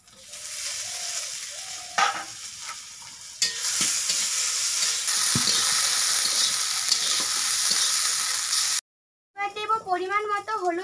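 Chopped potatoes are dropped into hot oil with fried spices for an egg and potato bhaji and stirred, producing a loud, steady sizzle with occasional scraping. After a brief silence, someone speaks.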